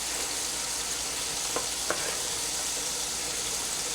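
Argentine red shrimp drop into a hot gumbo roux, raising a steady, fairly quiet broadband sizzle with two faint soft clicks partway through; no one speaks.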